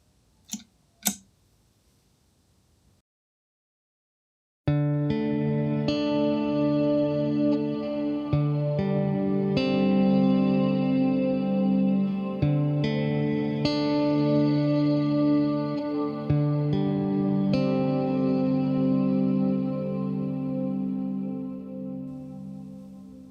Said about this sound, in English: let's turn on the 1978 plate version 2 reverb